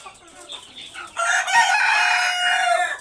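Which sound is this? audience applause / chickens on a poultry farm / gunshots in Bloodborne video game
chickens on a poultry farm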